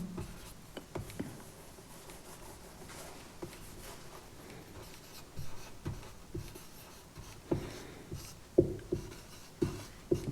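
Pen or chalk scratching out numbers during a maths lesson, soft scrapes and taps under a quiet room tone, growing a little firmer and more frequent toward the end, with no voices.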